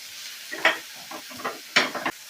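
Ginger-garlic paste and onion being sautéed for pomfret curry, with spoon scrapes and clacks against the pan in short bursts over a faint sizzle; no voices.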